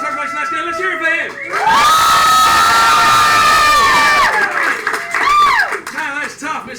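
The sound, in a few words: audience cheering and applauding for a game show player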